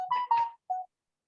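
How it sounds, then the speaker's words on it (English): A mobile phone sounds a short electronic alert of three clear tones, two quick ones then a brief final beep, close and alone in an otherwise quiet room during fly tying. "Sorry about my phone keep going off"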